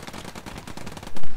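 Rapid automatic gunfire in the World War II shooter Post Scriptum, a loud dense burst of closely spaced shots with no pause, ending in a heavier boom.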